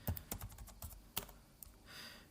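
Rapid keystrokes on a computer keyboard enter a Diesel CLI command, close and crisp clicks in an uneven burst, ending with a heavier key press.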